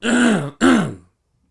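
Two quick, rough throat clears from one person, close and clear, followed by silence.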